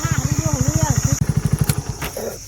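A motorcycle engine idles close by with a steady, rapid thumping pulse that briefly cuts out and restarts, while someone talks over it.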